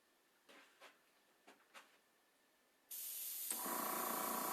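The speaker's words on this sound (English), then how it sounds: "I'm going to just kind of overlay and spray it a little bit" A few short hisses of spray from an airbrush or spray can, then a long continuous spray that grows louder and fuller.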